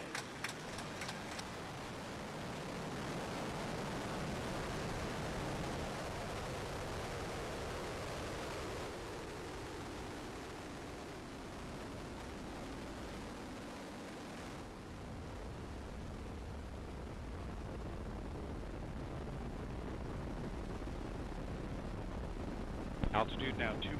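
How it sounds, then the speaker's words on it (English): Ares I-X test rocket igniting and lifting off, a sustained broadband roar rumbling heavily in the lows, steady and loud for the whole stretch with a wind-buffeted, distant quality. "Ignition and liftoff of Ares 1X, testing concepts for the future of new rocket design."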